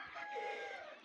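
Chickens from a shed are carried to a larger farm, and one gives a single short, faint call. No one speaks over it.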